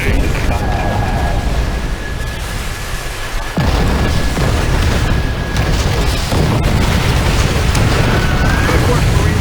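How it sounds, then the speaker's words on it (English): Rocket strikes pound a beach battle in Call of Duty: World at War, heavy explosions rumbling one after another amid constant loud combat noise, with voices shouting over the din. "Call in rocket strikes for all positions now!"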